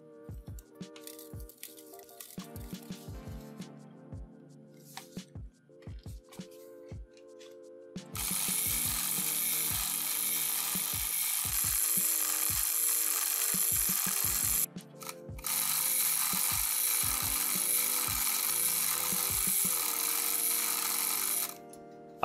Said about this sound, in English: let's see if it'll actually move a tape across correctly